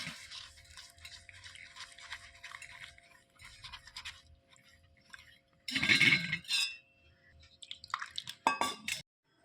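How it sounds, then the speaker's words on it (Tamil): Wet rice flour stirred into water in a pot or bowl while making Madurai-style paruthi paal, giving close scraping, clinking and sloshing bursts that swell in the middle and near the end over quieter handling noise. "இந்த தண்ணியை விட்டு நல்லா கரைச்சிக்கலாம்."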